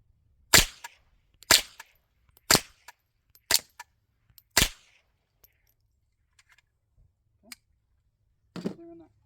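Five sharp suppressed .22 rifle shots crack out at an even pace of about one per second, each a loud, short report with a quick decay, followed by quiet and a faint clink near the end.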